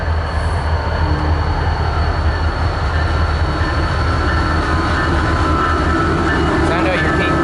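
A CN freight yard job rolls past at close range, a steady, loud rumble of rail cars with faint wheel squeal and some talk mixed in.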